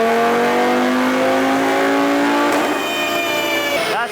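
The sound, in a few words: front-wheel drive Audi RS3 revving on a dyno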